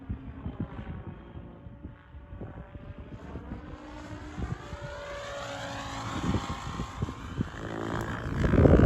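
Whining rotor and motor drone of a Blade 700 RC helicopter whose pitch slides and wavers as head speed drops, growing louder and rougher toward the end, with gusty wind buffeting.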